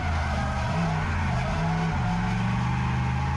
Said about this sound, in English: this is Owen Atkinson in front of us in his 1UZ Turbo RX8